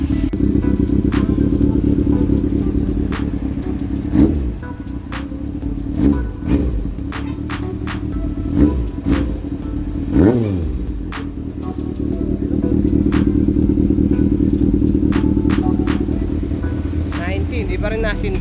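A Honda CB400 motorcycle engine on a cold night struggles through several cranking attempts, then catches and settles into a steady idle, with people talking over it throughout.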